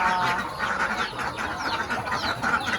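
A flock of ducks quacks nearby in a busy, overlapping chorus of harsh calls that runs on without pause.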